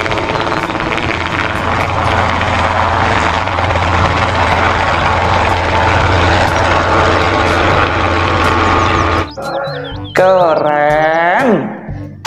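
Toy helicopter whirring loudly and steadily close by, then stopping, followed by bursts of rising and falling electronic toy tones.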